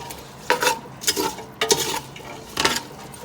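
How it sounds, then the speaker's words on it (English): Two pounds of chopped potatoes being stirred as they fry in bacon oil in a pot for seafood chowder, with four scraping, clattering spoon strokes over a soft sizzle, close and without talk. "This is 2 pounds of chopped potatoes. We're going to fry them down for about 10 minutes."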